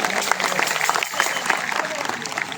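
A crowd at a Jagadguru Tukobaraya anniversary festival in Junnar applauds a service organization, a loud steady wash of clapping with a voice audible over it.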